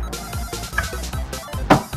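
A phone rings inside a Minecraft Egg Wars game, a busy, warbling electronic tone with repeated pulses that rise to a brighter burst near the end, heard clearly and alone.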